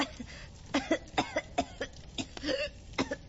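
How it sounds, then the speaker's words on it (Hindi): A burst of repeated coughing, a dozen or so short harsh coughs in an uneven rhythm, close by with quiet pauses between them. "तुम्हें तो खांसी आ रही है।"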